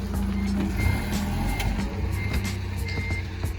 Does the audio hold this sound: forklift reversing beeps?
yes